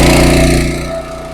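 A 4-inch walk-behind trencher engine runs steadily at a loud, close idle with a constant mechanical drone that eases slightly toward the end, no voices over it.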